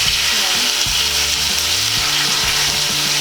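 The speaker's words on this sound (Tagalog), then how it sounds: "Ngayong medyo mainit na yung ating oil, pwede na nating ilagay itong ating pork." Pork pieces fry in hot oil with a steady, dense sizzle. A low rumble and faint knocks sit beneath it.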